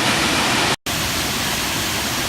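Waterfall at Paronella Park feeding a hydro system, a loud continuous broadband roar of falling water that cuts out for a split second before resuming unchanged.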